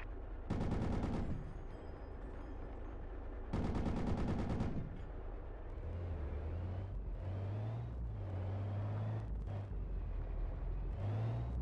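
Heavy automatic gunfire in the military shooter Project Reality, two dense machine-gun bursts early on, followed by scattered shots over the rumbling drone of a nearby vehicle engine.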